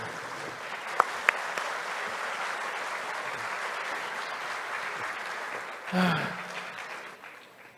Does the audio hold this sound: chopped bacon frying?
no